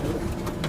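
Pigeons of a prized show breed cooing in a loft, soft low warbling notes close by across a brief moment, with no talk.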